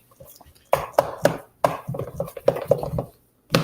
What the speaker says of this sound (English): I'm going to get all of that flour off the sides of the bowl.